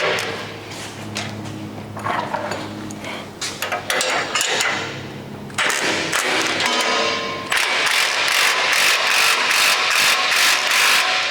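A ratchet works a bull bar bracket bolt on an Isuzu D-Max, sounding as steady clicking pawl strokes mixed with metallic clanks and thuds. The clicks grow denser and faster toward the end, close and loud.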